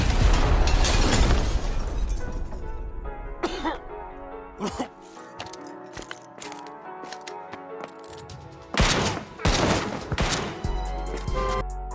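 A sharp, loud blast bursts out, followed by a long crackling tail and several smaller pops, with another strong burst near the end.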